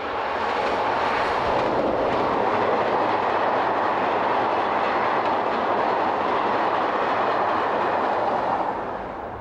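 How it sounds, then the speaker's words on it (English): Shortlines locomotive number 2001 hauls a long southbound container train past, a loud, steady rumble with a faint low hum. The roar holds evenly for the whole stretch, then eases slightly at the end, with no voices. "Shortlines locomotive number 2001 powers this lengthy southbound container service."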